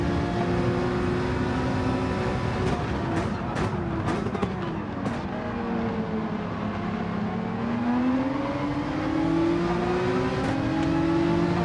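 Race car engines in Gran Turismo 7 during lobby racing, a steady droning roar with rising and falling revs as cars pass, moderately loud and continuous throughout.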